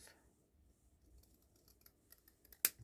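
Scissors snip through material in a steampunk folio craft project, with faint handling rustles building to one sharp, close cut near the end in a quiet room.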